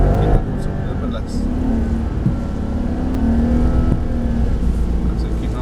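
A Mercedes-AMG SL63 accelerates on a race track with a steady loud engine drone rising slightly in pitch, heard from inside the car, while a driving instructor talks over it.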